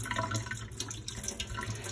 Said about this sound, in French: Vous allez rincer à l'eau claire pour bien les nettoyer.